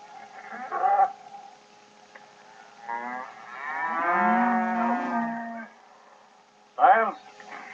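Cattle lowing in a Western frontier setting as a herd is bedded down, two short moos followed by a long, drawn-out bellow and another brief call, fairly close and loud with no talk over it.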